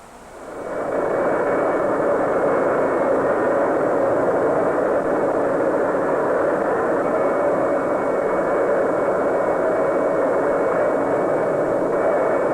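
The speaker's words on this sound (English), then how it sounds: "This jet is traveling with a uniform motion." A jet aircraft in level flight at uniform speed, heard in an old 16mm educational film: a loud, steady engine roar that swells in within the first second and holds unchanged, with no talk.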